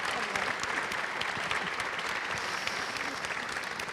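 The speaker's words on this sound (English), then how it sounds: "We can applaud them." An audience at an academic conference on service learning applauds, giving a steady wash of faint, somewhat distant clapping that lasts the whole stretch without talk.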